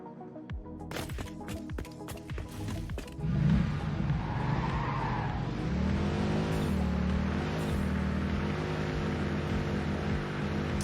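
A car in a video game accelerating and skidding, with engine drone and screeching tire squeals building over about eleven seconds, continuous and fairly loud.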